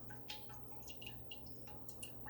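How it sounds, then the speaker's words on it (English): Turkey stock drains from a lifted colander, with small scattered drips and soft trickles, faint and close, and no one talking. "I'm going to lift this up. See how that's draining."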